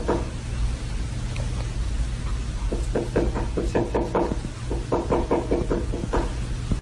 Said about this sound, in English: It sounds like someone is knocking insistently at the door